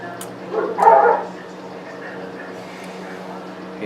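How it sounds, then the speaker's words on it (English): Dogs fighting indoors on Tennessee land, a short burst of yelping barks and whimpers from one or two dogs around the first second, then quieter room tone with faint yips; no speech. "Sounds like our dogs are fighting."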